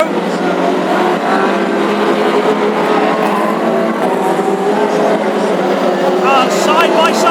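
Classic hot rod race cars at Ipswich run side by side in a national championship qualifier heat, a dense, continuous roar of engines under a commentator's excited talk.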